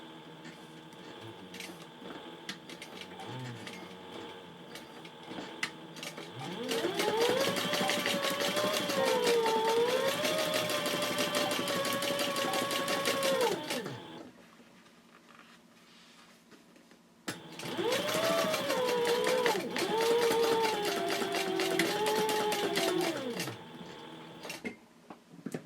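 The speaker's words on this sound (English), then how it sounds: "And now I will do some top stitching." Sailrite Fabricator sewing machine top stitching a bag: two loud, sustained bursts of rapid motor-driven stitching with rising and falling pitch, separated by a quiet pause, close by.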